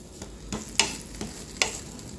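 A bottle gourd thalipeeth fries on a hot pan with a steady sizzle, broken by a few sharp taps and scrapes as it is pressed and turned. No one speaks.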